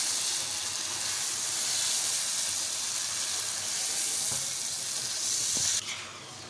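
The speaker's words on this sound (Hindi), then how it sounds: "अब हम इसमें ऐड करेंगे ये पेस्ट जो हमने टमाटर और प्याज का शामिल किया था" Tomato and onion paste sizzles with fried chicken in a pan, a steady bright hiss of frying that holds level, then drops away abruptly near the end, a couple of faint utensil clicks in between.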